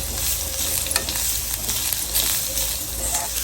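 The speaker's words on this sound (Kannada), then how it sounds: "ಕಾಯಿ ತುರಿಯನ್ನು ಕೂಡ ಸ್ವಲ್ಪ ಹುರ್ಕೊಳ್ತಾರಂತೆ" Grated coconut roasting in ghee in a pan for a Havyaka tambuli, a steady close sizzle and frying hiss with soft stirring scrapes running throughout, no voices.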